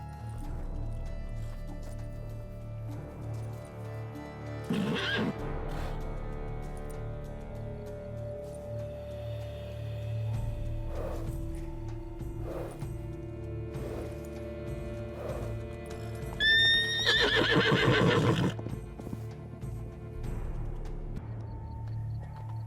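Horse in The Witcher 3 video game, hooves clopping and shifting close by amid ambient game sounds, then a loud, quavering neigh rising and falling for a couple of seconds near the end.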